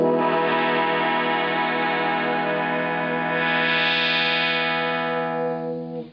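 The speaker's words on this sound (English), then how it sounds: "this is the Roland guitar synthesizer" A Roland guitar synthesizer played through a floor pedal unit holds a bright, buzzy, harmonically rich sustained tone with a filter sweep opening partway through, then fades out at the end, with no talking.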